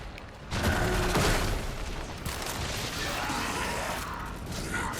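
Gunfire from a weapon in the video game Warframe, a dense burst of crashing shots and impacts that fills the clip with steady, loud, busy combat noise and no talking.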